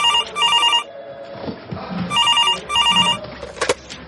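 A telephone rings in repeated electronic double bursts of chirping tone, separated by quieter gaps with faint background noise, heard clearly without any speech.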